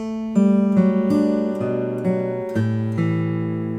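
Fingerstyle acoustic guitar plays the Raglan Road melody, a clear sequence of plucked notes over ringing bass strings, close and steady with no voices.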